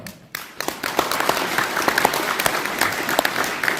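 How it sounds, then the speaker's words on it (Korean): Applause from a standing audience at a Daegu book launch and book concert, a long burst of many hands clapping steadily after a brief quiet start, dense and fairly close. "한번 일어나실 때 큰 격려의 박수 좀 부탁을 좀 드리겠습니다"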